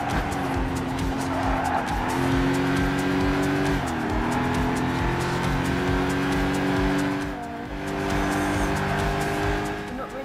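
A Camaro races in the Gran Turismo 5 video game, its engine droning loud and steady with pitch dips at gear shifts and bursts of tire squeal, filling the whole stretch.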